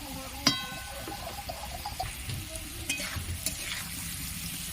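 Spices with salt and cumin powder fry in a pan with a steady soft sizzle. A sharp clink comes near the start, followed by light stirring scrapes.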